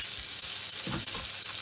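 Onions and peppers sizzle on a BBQ grill in a steady, bright hiss, with faint scraping in the background.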